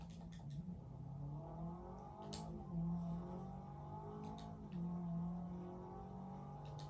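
Turbocharged 2.5-liter flat-4 boxer engine with over 300 horsepower, driven in the 2014 racing game Forza Horizon 2, hums steadily at moderate loudness with shifting tones as revs rise and ease off, no talking over it.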